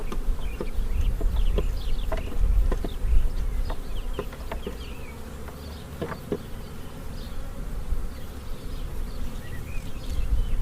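Honey bees buzz steadily from an open hive colony during a caged-queen introduction, a dense, close drone that stays loud throughout with brief higher whines from individual bees passing near.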